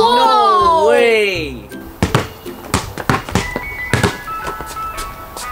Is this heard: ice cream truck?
yes